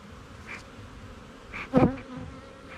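Honeybees buzz around a row of production hives during a nectar flow, a steady low hum with a few louder passes of single bees flying close by, no talking.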